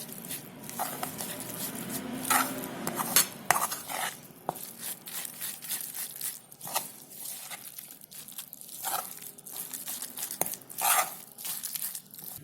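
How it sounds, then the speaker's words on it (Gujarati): Pigeon pea and fenugreek batter being stirred and mixed with water in a bowl: soft, wet slapping and scraping with small clinks of utensil on the vessel, steady and close. "હવે આપણે એમાં થોડુંક પાણી નાખી ને બરાબર મિક્સ કરશું"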